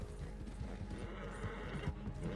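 A horse galloping in the video game Red Dead Redemption Online, rapid rhythmic hoofbeats running steadily throughout at moderate, slightly distant volume over a low rumbling background.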